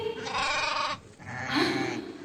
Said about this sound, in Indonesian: Sepertinya ini suara domba.